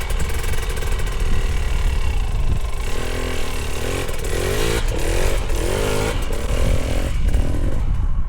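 A dirt bike engine revs hard and close on a hard enduro climb, its pitch rising and falling repeatedly over a continuous loud rasp with rattling clatter.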